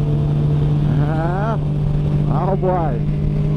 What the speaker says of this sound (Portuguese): Estão acelerando no grau aí, ó.